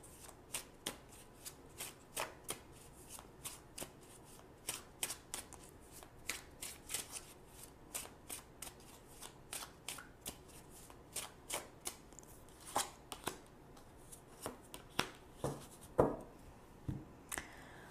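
Tarot cards are shuffled close and quietly, a long run of regular soft riffling flicks and slaps repeating about every second.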